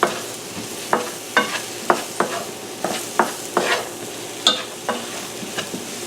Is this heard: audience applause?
no